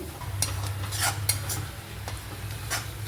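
Besan being stirred and cooked in a pan for a Bengali chhanar tarkari, with a few sharp scraping clicks of a utensil against the pan over a low, steady background hum.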